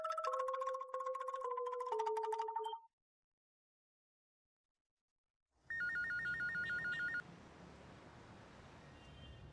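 A phone rings with an incoming call while driving. A melodic ringtone plays for about three seconds and then cuts to silence. A repeating electronic beep pattern follows over a steady low rumble of car noise.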